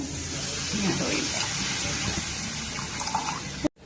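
Milk and water mixture poured into a pan while cooking Ramadan semolina porridge (tharikanji), a steady liquid splash and fill that runs throughout, with faint background voices, then cutting off abruptly near the end.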